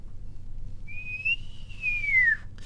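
A voice imitates the long drawn-out whistle of an incoming projectile, a single clear rising-then-falling whistle held for over a second and fading as it drops, close and alone over faint room noise.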